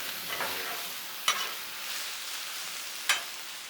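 Cubed chicken frying on a Blackstone griddle for apricot sriracha pasta, a steady hissing sizzle punctuated by two sharp spatula scrapes against the flat top.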